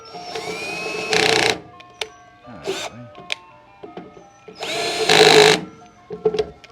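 A power drill whirs in several short bursts separated by pauses, with small clicks and handling noises in between.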